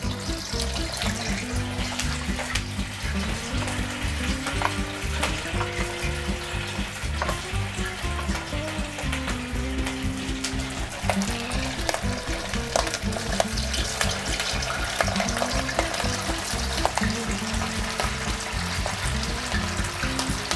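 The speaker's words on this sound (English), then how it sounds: "we're ready to fry up some polenta" Polenta squares frying in hot oil in a pan, a dense, continuous sizzle and crackle that holds steady and close throughout with no talking.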